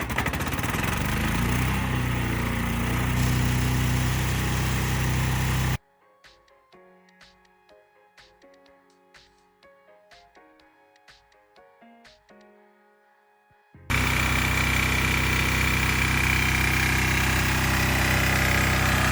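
A PAD125A pump engine runs loud and steady at full throttle while pumping, a continuous droning roar that drops out for several seconds in the middle and then resumes at the same level.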